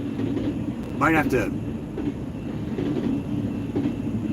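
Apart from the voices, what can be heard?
Pacer stack freight train passing on rails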